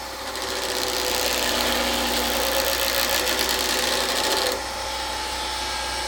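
A wood lathe turning an Alumilite blank spins up to full speed, giving a loud steady motor whine with rattling mechanical texture close by, easing to a lower, quieter drone near the end.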